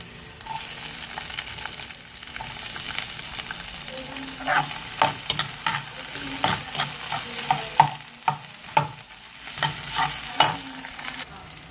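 Chopped onions sizzle in a pan while being cooked for laing, with a steady frying hiss broken by repeated scraping stirs of a utensil, close up and with no talking.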